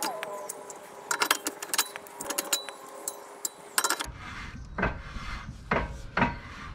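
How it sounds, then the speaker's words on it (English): The star adjuster on the rear brake shoe of a 2008 Infiniti M35 is being turned, making scattered close metallic clicks and rasping scrapes, irregular and fairly faint, with a duller rubbing stretch afterward. "So I'm gonna be turning the star adjuster. I'm gonna expand the shoe."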